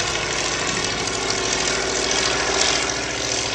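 Propeller aircraft engine drones steadily at an air show, a loud continuous roar with a faint rise near the end and no voices.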